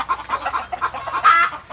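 Hens cluck in quick repeated bursts inside an organic fermentation-bedding laying coop, close and clear, with a slightly louder squawk near the end and no voices.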